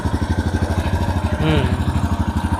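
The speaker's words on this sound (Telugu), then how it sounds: "ఎగ్జాస్ట్ నోట్ కూడా వినొచ్చు." A Royal Enfield Himalayan motorcycle engine idles with a steady, lumpy low-pitched exhaust pulse throughout, a brief rise in the middle, with faint voices underneath.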